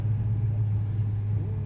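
Cars rumble along a street in -50 degree fog in Yakutsk, a steady low engine drone holding evenly throughout without breaks, fairly loud and close.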